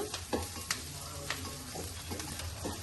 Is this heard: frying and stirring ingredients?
yes